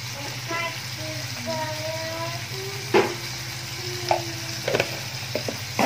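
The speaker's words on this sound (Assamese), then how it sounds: "এয়াও ভালদৰে সিজালৈকে ভাজিম বিলাহী" Tomatoes fry in hot oil with turmeric and salt, a steady close sizzle interrupted by scraping stirs and clinks of a spoon against the pan, while soft voices and tonal sounds drift in the background.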